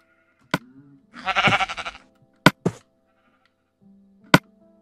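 Sheep in the video game Minecraft bleat in short, sharp calls: one bleat stands out clearly, with a few quick clicks and knocks around it and no talking.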